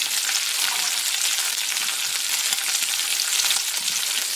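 Garlic and squid sizzle in a hot pot, a loud, steady, bright hiss of frying that runs unbroken throughout.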